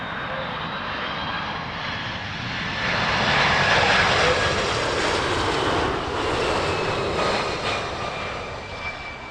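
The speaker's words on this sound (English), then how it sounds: "That one there is the A320 Neo" An Airbus A320neo passing at Heathrow around sunrise, a broad jet roar that swells to a peak midway and then eases off as the plane moves away.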